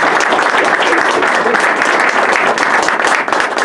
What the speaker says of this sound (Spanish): Un aplauso para nuestro Cónsul General del Perú